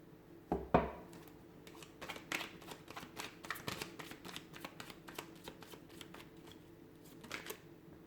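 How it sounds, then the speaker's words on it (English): Tarot cards being shuffled by hand in a quiet room, a run of rapid, close papery riffles and soft slaps repeating for several seconds with brief pauses between bursts. "we'll go ahead and give the cards a shuffle"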